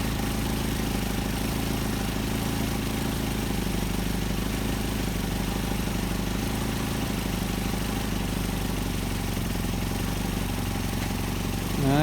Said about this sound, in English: I'm going to, just for fun, I'm going to see how low we can get this thing to idle.